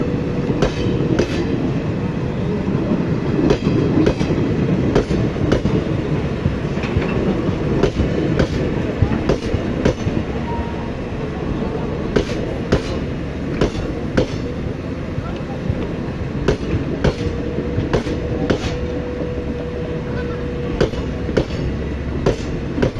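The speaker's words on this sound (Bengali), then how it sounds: "Malda Town, Howrah Intercity Express." The Howrah–Malda Town Intercity Express, running via Azimganj, rolls along with a continuous rumble and sharp, rhythmic clickety-clack of wheels over rail joints, heard close and loud from on board.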